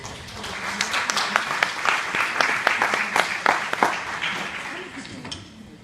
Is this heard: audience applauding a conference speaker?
yes